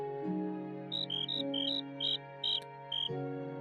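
Crickets in the Minecraft Mo' Creatures mod chirp at night, giving a steady run of short, evenly spaced high chirps over a soft held musical tone.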